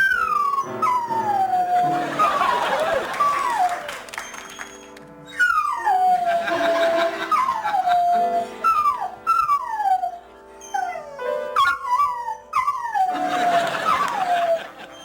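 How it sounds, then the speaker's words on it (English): A dog named Golden howls in long, wavering, falling cries while plinking on piano keys, the howls repeating in several drawn-out phrases over scattered piano notes. "Here's Golden, the piano-playing dog."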